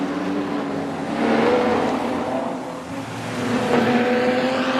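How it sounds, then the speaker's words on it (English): Nostalgia sedan race cars roar through turns one and two at Carina Speedway, a loud sustained engine drone that swells and fades as the pack passes, with no talk over it. "Zilke getting crossed up with Truant in the Bundaberg 15 machine that they're going through turn 1 and 2 now"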